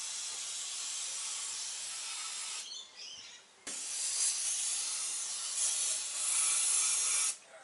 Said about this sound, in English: So, brake cleaner. And get it into the journals, into the galleries.